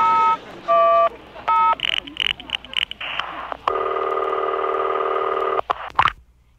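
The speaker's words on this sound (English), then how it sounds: "I'll just dial any number in the phone book." Touch-tone telephone dialing, several short bursts of paired beeps followed by a long steady ringing tone and clicks, loud and close, part of a 1971 comedy radio sketch with a voice briefly heard.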